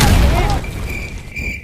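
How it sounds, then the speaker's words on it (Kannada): A Lakshmi bomb firecracker bursts with a loud, close boom at the very start, its rumble quickly decaying into a brief echoing tail while a voice follows. "ನೋಡ್ರಿ ಇದ ಲಕ್ಷ್ಮಿ ಬಾಂಬ್ ಇದೆ"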